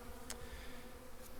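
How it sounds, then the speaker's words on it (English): Honey bees buzz steadily around an open hive at a beekeeper's inspection, a close, continuous drone with a couple of brief louder passes, no voices. "And all these bees inside their cells."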